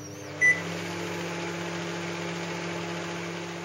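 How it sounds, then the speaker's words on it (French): A microwave oven cooks bread with a steady, low electrical hum and whir, and a short beep near the start. "nous n'avons plus qu'à le cuire au micro-ondes de 1 à 2 minutes selon la puissance de votre micro-ondes"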